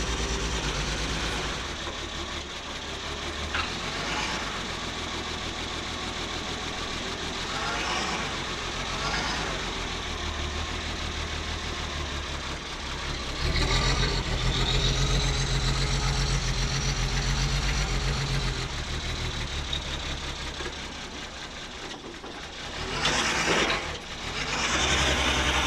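A propane-powered Diamond T truck idles roughly in cold weather, a loud continuous low engine rumble with uneven surges throughout, close by and with no talking.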